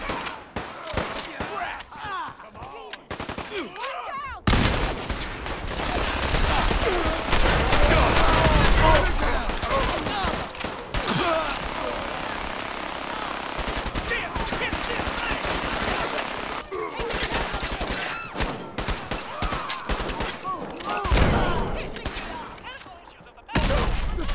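Heavy sustained automatic gunfire from a minigun in a Fallout 4 Nuka-World battle at Dry Rock Gulch, loud and dense for most of the stretch with brief pauses, and a voice speaking at times over the shooting.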